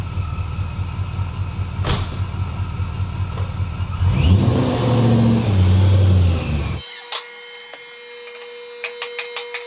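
BMW E34 lurching as the clutch comes up too quickly: a low engine rumble with rhythmic thumps that swells into a heavy, labored surge before cutting off abruptly to quiet clicks.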